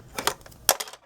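Short scratchy scraping strokes of a scoring tool dragged across paper on a scoreboard, a few quick rasps close by, one sharper than the rest.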